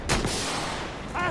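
Video game gunfire: a sharp burst of shots at the start, followed by a sustained rumble of distant battle noise and a second flurry near the end. There is no talking.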